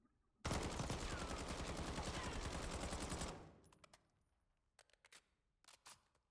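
Full-auto fire from a CR-56 AMAX rifle in a video game, a rapid evenly spaced stream of loud shots lasting about three seconds, then a fading tail followed by a few scattered clicks.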